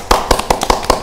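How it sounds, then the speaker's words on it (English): A small audience at a live fashion show panel gives the catwalk models a brief round of claps, about half a dozen sharp, separate hand claps in quick, uneven succession, close and loud. "Should we give them a little clap, because they look quite cute there."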